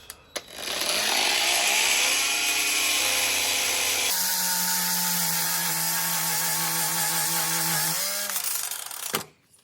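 Angle grinder with a cleaning disc scrubbing rust and gunk off metal parts of a John Deere 2010 diesel engine, a loud continuous high whine that shifts pitch midway under load, then winds down at the end.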